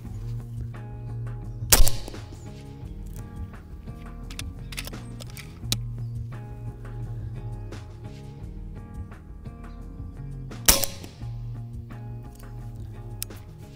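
An FX Panthera air rifle fires two shots, each a sharp, brief crack with a short ring, spaced about nine seconds apart over a steady low background hum.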